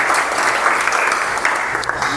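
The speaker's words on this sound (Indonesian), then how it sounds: "Tepuk tangan dulu untuk kalian yang luar biasa ini." Children in a classroom clap together in a steady, dense round of applause that lasts the whole stretch, fairly loud and close.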